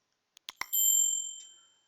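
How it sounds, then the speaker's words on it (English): A notification bell sound effect: a few quick clicks, then a bright bell ding that rings out clearly and fades over about a second, with no other sound. "don't forget to ding that magic bell"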